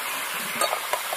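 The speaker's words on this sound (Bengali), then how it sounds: "একসাথে সব কিছু দিয়ে এবার ভালো করে কষাতে হবে।" Chicken pieces with tomatoes stirred and fried together in a pan, a steady sizzling hiss with a few brief scraping stirs near the end, close and fairly quiet, no voices.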